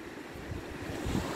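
Waves wash against a rocky wilderness shore in a soft, steady rumbling surge mixed with wind buffeting the microphone, faint and continuous with no talking.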